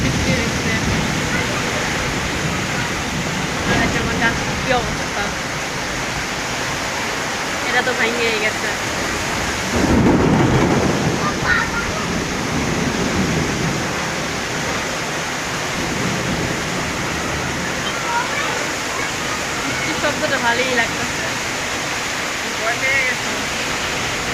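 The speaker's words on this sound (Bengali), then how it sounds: "এই দেখেন কত বৃষ্টি হইতেছে আজকে" Heavy rain with thunder pours down in a steady, dense roar that swells briefly louder near the middle, with a voice speaking over it now and then.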